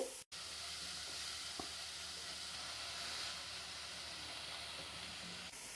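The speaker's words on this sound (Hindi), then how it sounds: "प्याज भी हम 1 मिनट फ्राई कर लेंगे।" Finely chopped onion frying in a pan for a patty filling, giving a steady, even sizzle with a soft hiss throughout and a brief stir or clatter near the start, with no talking.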